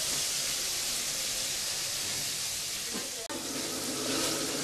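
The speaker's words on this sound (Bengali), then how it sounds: "ঘরের মধ্যে চিকেন ভাজা হচ্ছে, চিকেন ফ্রাই।" Marinated, coated chicken deep-frying in hot oil at home, a loud, dense, continuous sizzle heard up close, with one brief click partway through.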